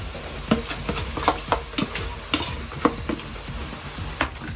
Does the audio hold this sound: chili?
yes